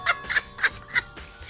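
Chickens in a video game give a quick run of four or five sharp, clucking squawks in an uneven rhythm, fairly close and clear with no talk over them.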